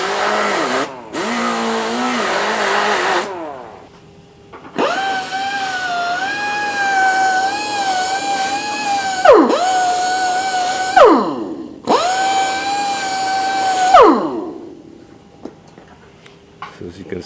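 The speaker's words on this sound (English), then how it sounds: "So you can actually see it right behind us here, the final step, the polishing." Car body polishing at a Japanese body shop, with rotary polishers using wool and terry cloth pads; steady whining machine tones rise and hold in several long runs, broken by short pauses, with talk heard near the start.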